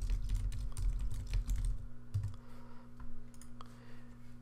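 Keyboard typing on a computer while entering a blog post title, a quick run of close, crisp key clicks with a steady hum underneath, thinning to sparser taps near the end.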